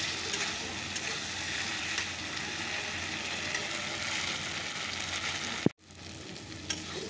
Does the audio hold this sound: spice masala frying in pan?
yes